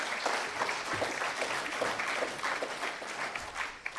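Audience at an opening session of a political organizing conference clapping steadily throughout, a dense continuous wash of applause with a few brief cheers poking through, no clear speech over it.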